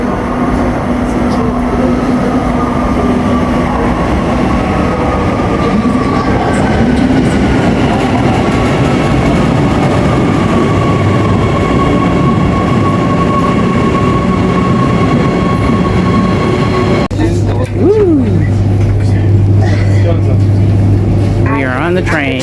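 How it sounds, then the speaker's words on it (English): A train pulls into a station in South Africa, its loud rumble and rail noise running steadily for the whole stretch, with a low horn-like tone near the end and people talking over it. "And here comes our train."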